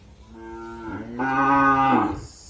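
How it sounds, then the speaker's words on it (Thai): A young pregnant heifer at a Thai cattle market gives one long, loud moo that swells and then fades, heard close up over a soft market background. "นี้ก็เป็นวัวสาวครับ ประกันท้องครับ"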